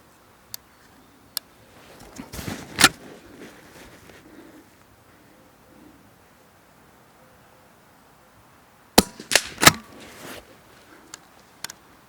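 A Blaser R8 Ultimate straight-pull rifle in .22 rimfire fires in a quiet outdoor setting. Sharp, short cracks and clicks arrive at scattered intervals, including a tight cluster near the end, with faint background hiss between them.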